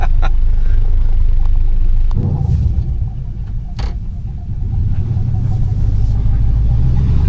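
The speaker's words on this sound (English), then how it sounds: "We'll drive it around with a flat tire until it falls off." A 1974 Chevy pickup with a completely flat front tire rolls along, giving a steady low engine rumble with a brief rise and dip midway, close and continuous throughout.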